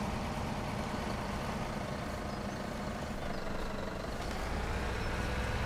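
Tractor engines in a video game idle throughout with a low, steady rumble, a heavy diesel drone with no voices, consistent and moderately loud from start to finish.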